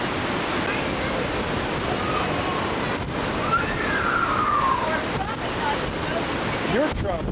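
Hurricane Wilma's strong wind roaring steadily outdoors, a dense continuous rush buffeting the microphone with a faint distant siren-like wail rising midway.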